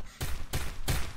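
Three short bursts of gunfire in a battle royale shooter, evenly spaced, fairly quiet and distant-sounding, with broadband cracks separated by near-silence.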